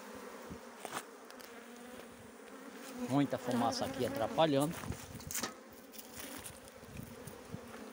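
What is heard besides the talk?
honey bees buzzing around an opened hive box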